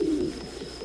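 Pigeons coo steadily at Manakamana Temple in Gorkha, Nepal, in the early morning as worshippers queue outside. The soft, low calls are close and continuous, with a strong coo at the start, and no one speaks.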